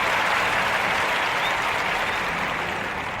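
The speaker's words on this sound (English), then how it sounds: "It's a round of applause." A crowd gives a round of applause, dense clapping that is loud and steady and eases off only slightly toward the end.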